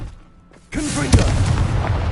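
A Confringo spell blast in the Hogwarts Legacy video game, a sudden loud booming explosion that swells and rumbles on, with a voice shouting at its onset.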